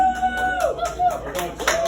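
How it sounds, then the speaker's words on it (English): Scattered, light applause from a stand-up comedy audience, mixed under someone talking loudly. "You're not clapping loud enough."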